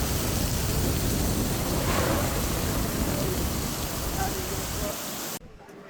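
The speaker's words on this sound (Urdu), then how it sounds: "جیسے ہی ہم پہنچے تو بارش نے ہمارا استقبال کیا." Steady heavy rain pours down in Miandam in the Swat valley, a dense continuous hiss close by, then cuts off abruptly near the end.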